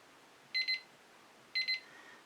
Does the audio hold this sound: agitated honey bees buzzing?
no